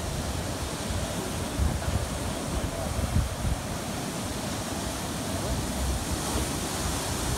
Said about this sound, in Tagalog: That's a big wave.